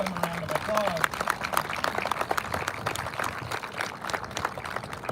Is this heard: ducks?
no